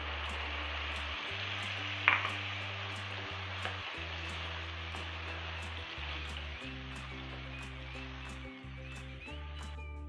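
Tomato puree cooking in oil with ginger-garlic and onion paste: a soft, steady sizzle and bubbling continues throughout, with one sharp clink near the start, while a low background hum pulses on and off.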